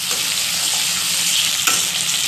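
Chopped onion and potato, with mangodi, fry in a pan, a loud dense close sizzle that runs unbroken with one brief utensil knock.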